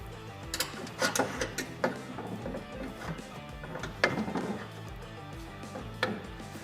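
Upper A-arm bolt being removed from a Honda Pioneer 1000-5 side-by-side in a shop, a quiet series of irregular clicks, knocks and ratcheting taps close by.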